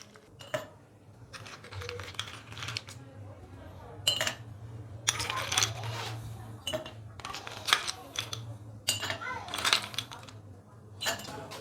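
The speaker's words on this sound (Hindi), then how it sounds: "सबसे पहले गिलासों के अंदर बर्फ़ डालेंगे" Ice cubes drop into glasses in quick bursts of bright clinks and clatter, with short pauses between pours over a low steady hum.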